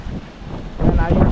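Strong typhoon wind blows at sea with drizzle, a rough gusting roar that buffets the microphone and surges louder in the second half, with a voice faintly mixed in.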